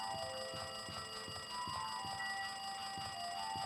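A telephone in the video game Danganronpa 2 rings in a quick repeating electronic trill, with regular pulses over a steady musical background.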